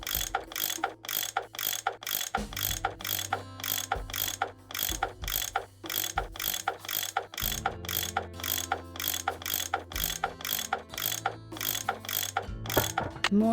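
Ratchet tool turning bolts loose in the Nancy Drew video game Last Train to Blue Moon Canyon, a rapid, evenly repeating mechanical clicking that runs steadily throughout over a low humming background.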